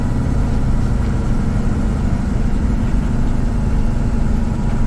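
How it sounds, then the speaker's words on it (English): An 18-speed Road Ranger truck engine runs at a steady, loud low rumble during an upshift, a dense continuous drone with no clear rev change, heard close from inside the cab with no voices. "So I'm going to go up a full gear by applying the throttle slowly, and we're slowing down."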